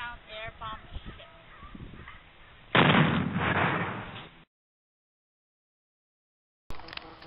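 A 1,760-pound air bomb explodes during the attack on Pearl Harbor in a sudden loud, rumbling blast that follows narration and decays over about a second and a half before silence.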